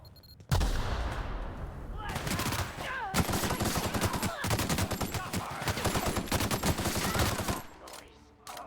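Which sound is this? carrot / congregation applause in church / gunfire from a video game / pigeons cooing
gunfire from a video game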